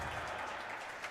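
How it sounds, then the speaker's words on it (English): A twilight crowd of spectators applauds steadily at a 2023 SoCal Open quarterfinal match, a continuous wash of clapping at moderate distance with no distinct voices. "the early crowd that's come in, this is the twilight crowd here that's come in"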